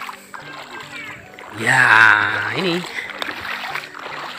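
River water splashes and sloshes around a small wooden boat being pushed into a clear, wide, gently flowing village river, with people talking over the watery movement.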